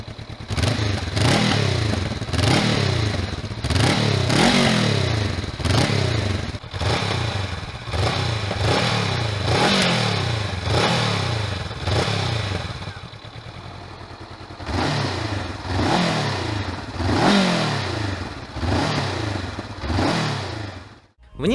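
A Honda CBR500R parallel-twin engine revs up and down repeatedly in a steady rising-and-falling pattern while riding, loud and close, with a brief easing off before pulling again.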